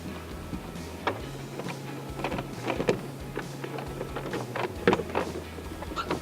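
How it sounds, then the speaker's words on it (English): A BAKFlip Fibermax hard folding truck bed cover is folded up, giving a run of scattered plastic clicks, taps and knocks over a low steady hum, close by and fairly quiet. "we're gonna fold up the cover"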